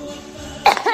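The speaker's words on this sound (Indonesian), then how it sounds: "sorry kalau lagi batuk nih" A single short cough bursts out near the end of a quiet second, close and fairly loud, from someone on an Instagram live stream.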